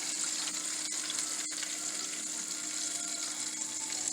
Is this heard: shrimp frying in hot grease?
yes